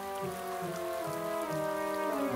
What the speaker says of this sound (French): Il pleut des cordes maintenant.